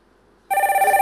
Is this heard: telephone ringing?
yes